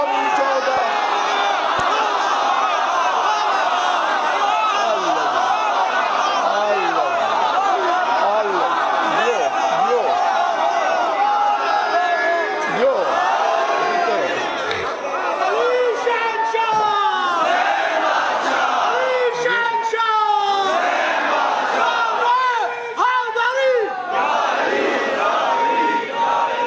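A large crowd at a Muharram religious gathering roars slogans in response, a continuous wall of loud massed voices with overlapping shouts and chants sustained throughout.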